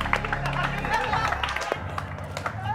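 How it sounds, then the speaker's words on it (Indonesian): A television talk-show studio audience claps and cheers for a performer. Lively, crowded applause mixes with chatter and talk from the hosts. "Tepuk tangan dong buat Marsha."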